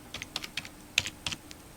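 Quick light keystrokes on a computer keyboard, about eight soft clicks in a short burst, close and faint with no talk.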